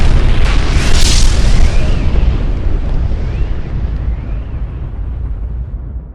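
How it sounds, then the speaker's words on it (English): A large explosion in a simulated emergency broadcast scenario at the Union Center in Albany, where a political rally was being held: a loud, deep boom that rolls on and slowly fades over several seconds, with no voices. "We're getting reports of a large explosion at the Union Center in Albany."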